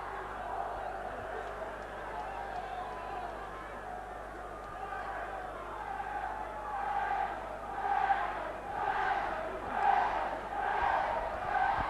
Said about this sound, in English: Good sized crowd getting behind Wigan.